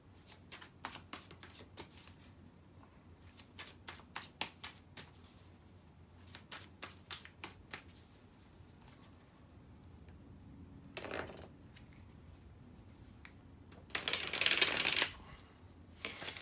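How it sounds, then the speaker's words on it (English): Tarot cards being shuffled alone, with repeated sharp riffles and taps spread through the stretch and a louder burst of dense shuffling near the end. "now let me put the cards back into the deck, shuffle"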